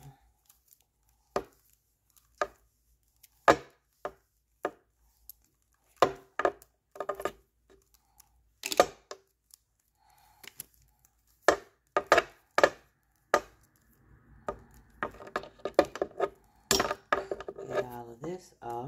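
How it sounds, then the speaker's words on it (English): Plastic wrapping is pulled and torn off a DSHOW mini pencil flat iron, with sharp crinkling rustles and snaps in irregular bursts, close and fairly loud, growing busier toward the end. "I'm going to go ahead and remove the plastic"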